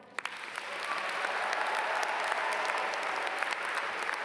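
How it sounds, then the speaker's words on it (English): Audience at an environmental school's commencement ceremony breaks into steady applause after a couple of early claps, a broad, sustained clapping that fills the hall evenly to the end. "Could everybody here please stand and offer a round of applause as I read their names?"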